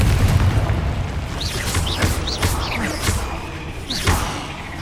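Confringo fire spell explosions in the Hogwarts Legacy video game, several booming blasts and thuds arriving in quick succession amid swooshing spell effects, with no talk.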